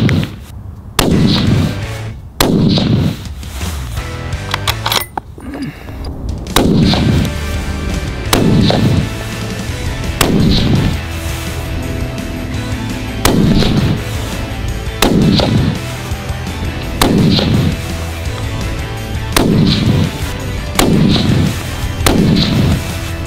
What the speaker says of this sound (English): I'm gonna shoot 5 3-shot groups right in a row.